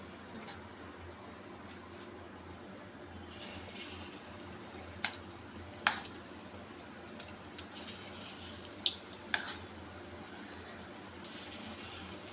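Soya chunk pakoda batter frying in hot oil, a soft continuous sizzle with scattered crackles and pops, close and fairly quiet, with no talk.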